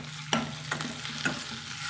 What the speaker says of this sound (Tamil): நல்லா இதை நம்ம வதக்கிட்டுக்கலாங்க.